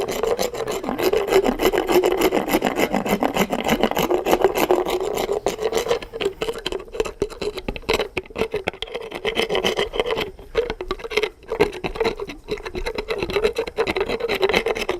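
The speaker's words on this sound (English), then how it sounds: "I've just got the polishing tool, and I'm going to finish that off" Equine dental polishing tool filing a horse's tooth: a steady, continuous close rasping grind with a droning motor tone, holding evenly for the whole stretch with brief dips, no talking.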